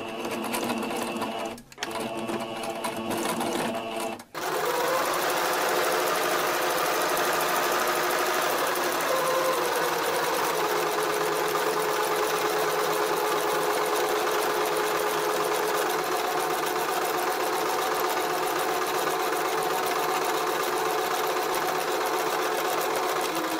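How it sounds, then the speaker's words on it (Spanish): An electric sewing machine stitches fabric for a school trouser bag, running loudly and steadily after a couple of brief starts, its needle chattering in a continuous close hum without any voices. "lo voy a llevar a la máquina y voy a coser por todo este alrededor"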